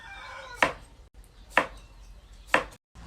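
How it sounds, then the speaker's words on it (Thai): Three sharp knife chops strike a cutting board as a cucumber is cut, evenly spaced about a second apart, close and crisp with quiet pauses between. "ขั้นตอนแรกคือ หั่นแตงก่อนค่ะ"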